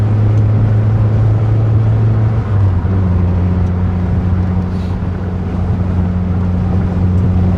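A 1999 Mitsubishi Eclipse GS Spyder on winter tires cruises along a highway under construction near Flint, giving a steady droning engine hum with road and wind noise and a slight shift in engine pitch partway through.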